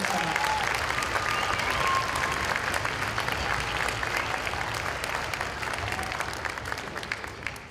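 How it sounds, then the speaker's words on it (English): Audience applause at a sixth grade school band fall concert, a steady dense clapping that fills the hall for several seconds and slowly fades near the end, with faint crowd murmur beneath. "if we can give them a round of applause."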